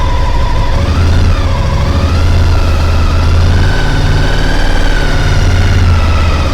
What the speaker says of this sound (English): I'll go to the throttle, and I want to gently increase the revs.